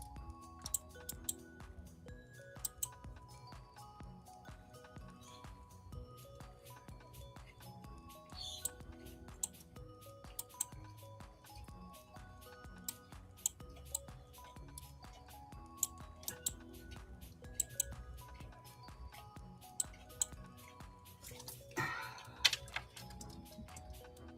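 A computer keyboard typed on steadily for a long stretch, with faint, quiet clicks and a few sharper key taps at an irregular pace.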